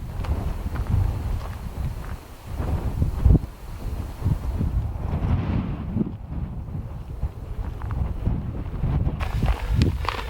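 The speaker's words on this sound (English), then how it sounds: "The problem is with this wind" Strong wind buffeting the microphone at a desert campsite in Oregon's eastern desert, loud gusty rumble with occasional thumps, continuous and close.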